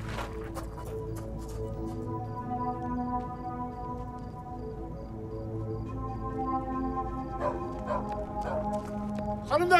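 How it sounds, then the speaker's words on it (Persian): Dogs barking in a rural area at night, several sharp, fairly distant barks in clusters near the start and end, heard beneath steady background sound and people talking. "اینجا سگ زیاد داره"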